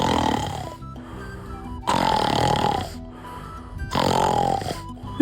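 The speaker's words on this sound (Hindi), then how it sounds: "शेर खर्राटे ले रहा है" A cartoon lion snores in deep sleep, giving three long, loud, rasping snores with brief pauses between them, heard close and on its own.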